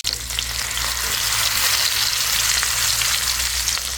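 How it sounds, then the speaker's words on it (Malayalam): Carp fish fries in butter in a pan, producing a continuous, loud, even sizzling hiss that holds steady throughout with no voices. "നമുക്ക് മീൻ ബട്ടറിൽ ഫ്രൈ ചെയ്യാനായിട്ട് വെക്കാം"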